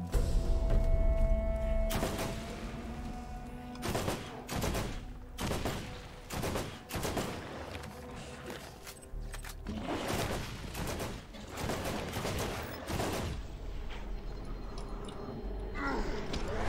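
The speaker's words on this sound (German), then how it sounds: "Warum explodieren die immer, wenn man auf die schießt?" Dense, rapid gunfire and bursting explosions from the video game Borderlands, with heavy thuds and crackling blasts hammering in clusters almost without pause for the whole stretch, loud and close.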